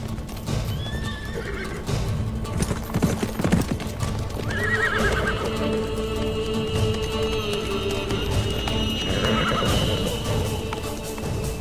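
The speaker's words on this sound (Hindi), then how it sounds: "ये घोड़ा तो शहजादे अलाउद्दीन का है" A horse in a historical Ottoman-era drama neighs loudly twice, with its hooves clopping steadily throughout over a rumbling outdoor background.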